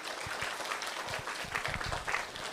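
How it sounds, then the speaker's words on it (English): An audience at a school storytelling event applauds in a brief, moderately loud patter of clapping that stays fairly even throughout. "Give a round of applause."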